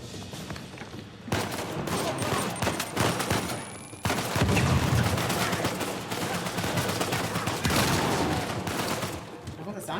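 Pump shotgun fire in the video game Uncharted 4, a dense run of loud blasts and game action sounds stretching through the whole stretch, with a short lull before a heavier burst.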